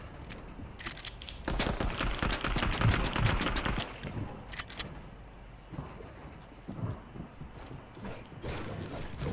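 Gunfire in a Fortnite fight against an enemy: rapid bursts of shots crackle densely for the first few seconds, then thin to scattered, quieter reports and mechanical clicks, with no talk over it.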